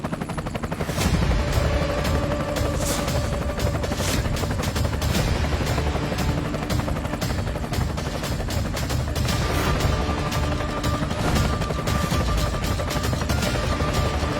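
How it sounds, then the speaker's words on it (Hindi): Helicopter flying close by, a steady loud thudding rotor drone with engine whine filling the whole stretch without any talk. "अरे ये तो करोड़ों का हेलीकॉप्टर है"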